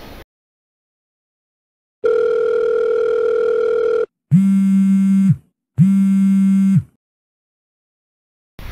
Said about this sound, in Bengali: দাঁড়া, আমি ফোন করে দেখি।